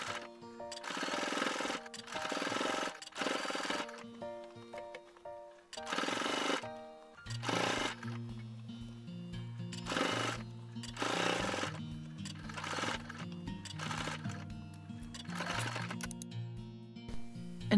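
A sewing machine top stitching along the edge of a fabric kinchaku drawstring bag, running in short bursts of rapid needle clatter with brief pauses between them, close and fairly quiet.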